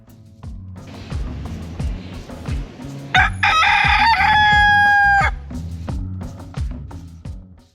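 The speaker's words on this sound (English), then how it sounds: "I ran into this rooster who was cool enough to give me this great performance" A rooster crows loudly and close by in Key West, Florida, one long drawn-out call, while rhythmic low thumping and background noise continue underneath.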